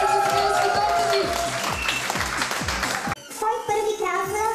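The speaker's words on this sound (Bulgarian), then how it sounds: "Аплодисменти за Смилски Тотки." Studio audience applauding at a Bulgarian game show for couples, steady clapping that cuts off abruptly near the end, followed by a brief burst of talk and laughter.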